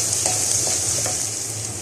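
Green chili keema frying in a pan, a continuous close sizzle with faint stirring taps.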